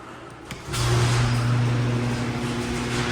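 Car engine starting up and idling steadily as the car is pulled out of a garage into the dark, a close, loud, even hum with a low drone after a brief click.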